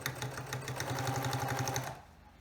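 Sewing machine stitching binding onto a pillowcase in one steady, fairly faint run of rapid rhythmic whirring that stops near the end.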